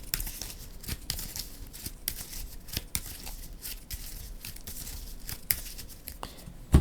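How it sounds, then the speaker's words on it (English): Playing cards riffled and shuffled back into a deck during a Marvel Champions card game, a soft, quick crinkling patter of shuffles and brief paper flutters, close and quiet. "Shuffle it back into the deck."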